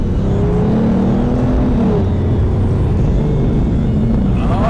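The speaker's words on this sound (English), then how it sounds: "This V12, as silky as and smooth as it could be, it still wants you to go full throttle and mess with you and give you the beautiful sounds" An Aston Martin DB9 with a V12 engine revs hard at full throttle, a loud, sustained, smooth engine roar with climbing tones, close by and with no voices over it.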